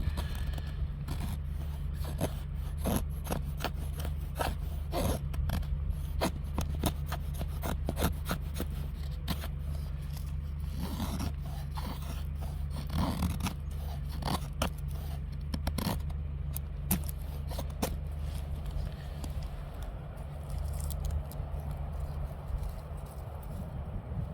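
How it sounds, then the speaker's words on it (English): A knife scrapes thin shavings from a piece of fatwood in repeated rasping strokes, steady and close, over a constant low background hum. "so I'm making those shavings completely off frame"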